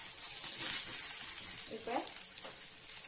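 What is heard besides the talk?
brinjal (eggplant) frying in a pan for chutney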